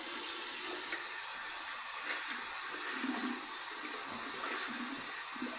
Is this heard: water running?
yes